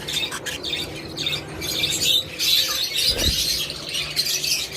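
A crowd of budgerigars and other pet birds in a shop or aviary chatter without pause, with overlapping high chirps, tweets and harsh squawks. The flock sounds busy and nearby, with no voices.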